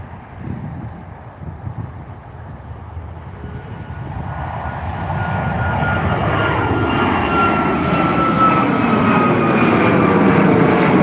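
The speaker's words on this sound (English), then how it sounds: "Taking off now, we have the Ryanair flight to Faro 737 MAX 8 in the beautiful sunset." A Ryanair Boeing 737 MAX 8 takes off from Dublin Airport at sunset, its jet engine roar swelling from a distant rumble into a loud, steady thrust that keeps building over eleven seconds.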